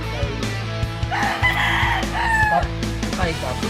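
A brood stud rooster at a small backyard poultry farm crows loudly and close by, one long call over steady clucking from other chickens, with someone talking in the background.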